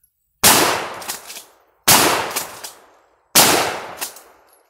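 Three loud shotgun blasts from an Ithaca Model 37 Featherlight 12-gauge pump, fired outdoors about 1.5 seconds apart, each a sharp crack followed by a rolling echo that fades before the next shot.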